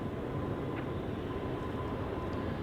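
A KLM Boeing 777-300 airliner takes off from Schiphol's Polderbaan runway, a loud, steady broadband jet roar that holds constant throughout.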